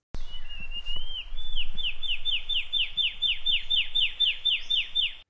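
A male Riverbank Warbler of the Atlantic Forest sings a loud, close song. It opens with a rising whistle, then runs into a rapid string of about fifteen evenly spaced, sharply slurred notes that hold steady to the end.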